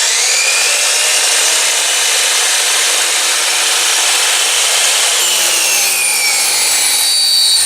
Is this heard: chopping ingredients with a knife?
no